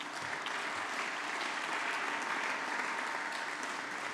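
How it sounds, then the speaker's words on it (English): Audience at an MBA in International Business graduation ceremony applauds steadily, a dense, even wash of clapping that holds at the same level throughout without pause. "so a round of applause for her, please."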